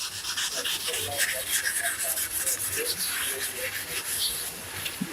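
Close, steady rubbing of sandpaper over a wooden traditional recurve bow, a continuous scratchy hiss with small variations in pressure and no clear pauses.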